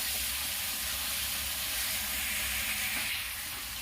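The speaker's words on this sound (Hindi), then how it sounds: "इसमें अब अदरक लहसुन का 1 चम्मच पेस्ट डाल दूंगी। इसे लगभग 2-3 मिनट भून लूंगी।" A spoonful of ginger garlic paste fries in hot oil over cooked-down ingredients for a chana dal tadka, giving a steady, soft, close sizzle that holds for several seconds with no talking.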